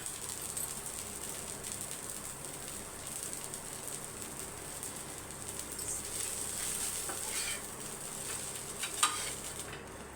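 Dosa batter sizzling on a hot pan, a steady faint hiss of frying with occasional small scrapes and crackles, close and continuous without talk.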